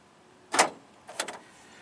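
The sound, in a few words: Honda Civic door lock actuator popping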